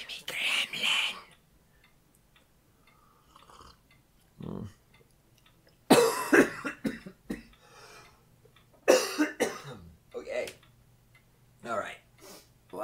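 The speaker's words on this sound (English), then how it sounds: "Thanks for coughing in our ears, great one." Several harsh coughs burst close into a microphone on a talk podcast, loud separate fits spaced across the stretch with quiet gaps and faint murmuring between them.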